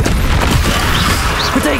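Confringo blasting spell in the video game Hogwarts Legacy: a loud, booming blast with dense rumbling debris that fills the whole short moment, close and heavy, with faint voice-like sounds mixed underneath.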